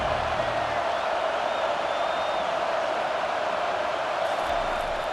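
A stadium crowd in EA Sports College Football 25 roars in a steady, dense wall of noise, loud and unbroken for several seconds with no distinct cheers standing out.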